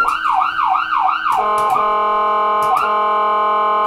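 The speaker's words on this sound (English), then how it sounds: "There are sirens blaring." An emergency vehicle siren blares in the city, first a rapid rising-and-falling wail and then a slower steady tone, loud and close with no talking.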